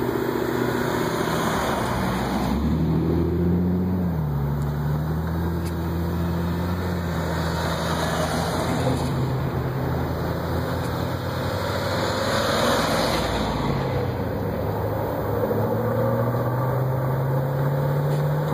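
Ford Mustangs rumbling in on a club cruise through Lancaster County covered-bridge country, a steady layered engine drone with passing cars rising and falling nearby.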